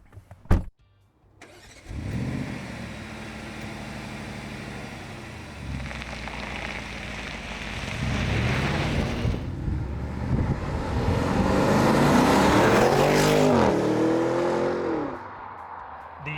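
An Audi RSQ8 performance SUV engine cranks and fires up, then idles and revs as the car pulls away, building to loud acceleration with rising engine pitch before easing off near the end.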